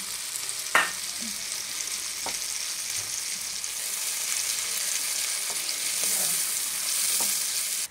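Masala sizzling steadily in a pan just after a little water is added for a sarpunti fish curry, a bright hissing bed with a few faint spoon taps and scrapes, no talking.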